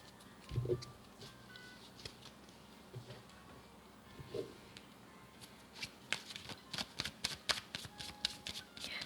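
Tarot cards shuffled by hand during a Thai love-horoscope reading for Taurus, giving soft riffling bursts with a short slap near the start and a quicker run of crisp flicks toward the end, close and fairly quiet.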